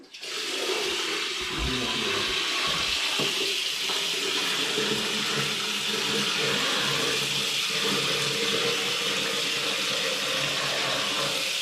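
Water runs steadily from a tap while freshly harvested produce is washed at a rural home, a loud, continuous close splashing rush that lasts the whole time with no talking.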